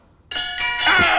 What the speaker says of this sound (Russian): Бода, это карильон! Он может играть в автоматическом режиме.